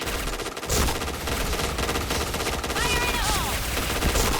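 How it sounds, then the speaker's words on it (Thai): Sustained automatic fire from a silenced P90 in the online shooter Point Blank, a steady unbroken stream of rapid shots lasting several seconds, close and loud, with a brief game tone near the end. "มันใกล้ไงยิงค้างไปเลย"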